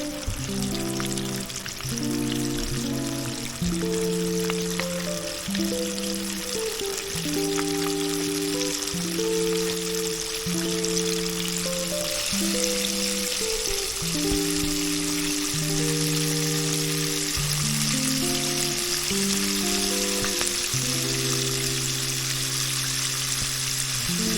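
Rabbit legs deep-fry in hot oil, a steady crackling sizzle with constant bubbling, loud and close throughout with no talk, while a soft melodic tune plays underneath.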